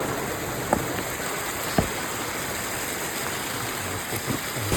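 A rushing mountain stream near Rambara on the Kedarnath trek, swollen by fresh snowfall upstream, gives off a loud, steady, close roar of water, with a couple of faint knocks.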